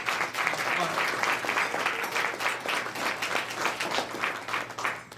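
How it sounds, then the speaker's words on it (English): Guests at a solidarity dinner applaud in a sustained round of clapping, with a lively, slightly pulsing texture of many hands and a voice occasionally audible beneath it. "So again, let us give a round of applause"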